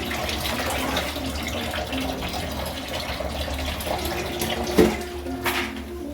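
Tap water running steadily for the final rinse while cleaning a fridge, a continuous close gushing flow throughout with a brief splash near the end.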